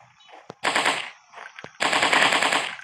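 Rapid bursts of automatic gunfire from a dinosaur hunting simulator game on Android, two loud sustained volleys separated by single sharp shots, with no voices.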